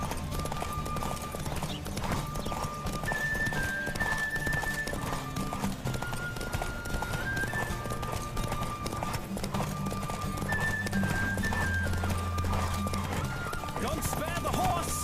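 A horse's hooves clip-clop in a quick, steady galloping rhythm over music and tonal melody in the video game The Witcher 3: Wild Hunt, continuous and fairly close.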